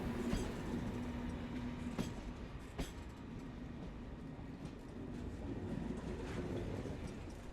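A train convoy rolls along the tracks near a station at night, a steady low rumble with a few sharp clicks of wheels over rail joints, moderately distant and without voices.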